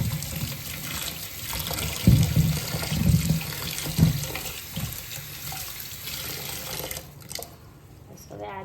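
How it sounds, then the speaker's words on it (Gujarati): Running tap water pours and splashes as freshly curdled milk chhena is rinsed with clean water for ras malai, a steady close wash with a few heavier splashes, then quieter at the end. "હવે આપણે એને ચોખ્ખા પાણીએ એકવાર ધોઈ લઈશું, તેથી જે ખટાશ હોય થોડી ઘણી લીંબુની"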